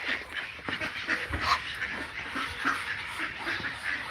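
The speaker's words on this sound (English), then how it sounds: "They really make water so dirty, these ducks." Ducks around dirty water in a basin being filled, giving repeated soft quacks and nasal calls, some panting-like breathy sounds, moderately near and fairly faint, with no talk.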